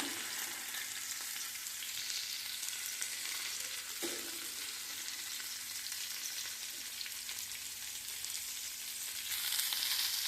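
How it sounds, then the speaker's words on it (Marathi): Bitter gourd pieces fry in an open pan, giving a steady close sizzle broken by a brief scrape of stirring near the middle, and the sizzle swells toward the end. "आता हे कारले मधूनमधून आपल्याला हे असे थोडे थोडे हलवून घ्यायचे आहेत म्हणजे खाली डागणार नाही"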